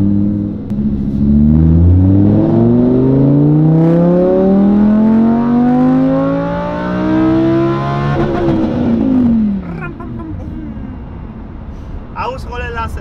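A Lamborghini Huracan LP610-4 with a Stage 1 tune revs and accelerates from inside the cabin. The engine climbs through rising gear pulls with a deep roar, then eases off with crackles while people talk over it.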